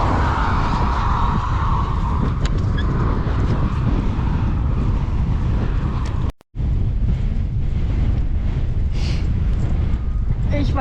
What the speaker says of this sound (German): Aber der Sturm, der kalte Wind.